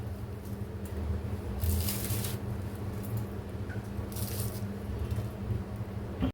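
Electric mixer grinding torn pieces of toasted bread, a steady whirring grind with rattling bursts of crumbs knocking inside the jar, moderately loud throughout.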